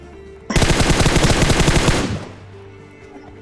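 A sustained burst of rapid automatic gunfire from a shooter video game, loud and close, lasting about a second and a half before cutting off into quieter in-game ambience.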